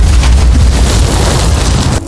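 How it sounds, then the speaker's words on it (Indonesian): A landmine explodes in a war film about soldiers fleeing North Korea: a loud, sustained low boom with broadband rumble filling the whole moment, cutting off abruptly at the end. "tiba-tiba terdengar suara ledakan"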